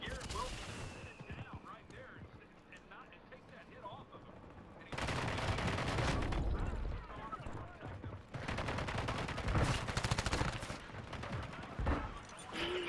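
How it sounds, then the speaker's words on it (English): Call of Duty gameplay with bursts of automatic gunfire, rapid and loud, coming in clusters between quieter stretches, while players talk over the action. "How's this guy shooting through the wall and hitting me?"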